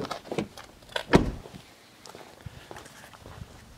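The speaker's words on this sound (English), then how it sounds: "I'll open the door on the truck." A pickup truck door clunks open close by with a short thud, preceded by light footsteps and followed by quieter shuffling sounds.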